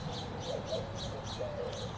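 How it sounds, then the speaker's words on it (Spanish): Small birds chirp faintly in a green park, with a few short, thin calls over a steady outdoor background hum. "¿Se oyen los pajaritos?"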